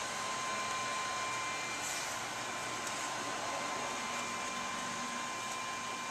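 A hot-air rework nozzle blows steadily over the top of a Radeon HD 5770 graphics card during BGA rework, a constant close, even rushing hiss with no pauses.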